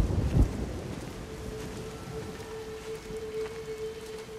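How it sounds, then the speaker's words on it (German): A thunderstorm in the game Everybody's Gone To The Rapture: a heavy thunder crack opens over steady falling rain, followed by a sustained low tone while the rain continues alone. "Sturm sei gegrüßt."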